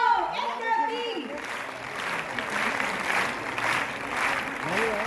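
Audience applause at a women's justice forum event in Panchkula, a dense steady patter of many hands clapping for several seconds, with a voice briefly audible at the start.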